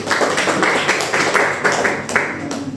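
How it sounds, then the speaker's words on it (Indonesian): Students applauding in a classroom, a steady patter of many hands clapping at close range that carries on for a few seconds without talk. "kita kasih tepuk tangan untuk semuanya"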